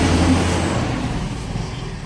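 Yamaha Mio Gear 125 scooter with a hard-starting fault, its engine turning over and idling roughly at close range, a low steady rumble that gradually fades and thins over about two seconds.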